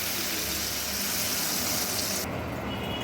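Water pours steadily into a pan of tangra fish curry with cooked tomato and spices, a loud continuous gushing that runs throughout and changes tone near the end.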